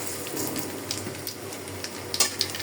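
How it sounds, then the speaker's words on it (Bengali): Dried chilies and black cumin seeds fry in hot mustard oil, a steady close sizzle with small crackling pops scattered throughout. "আমি এখানে সরিষার তেলে দিয়ে দিলাম শুকনা মরিচ আর দিয়ে দিলাম কালো জিরা"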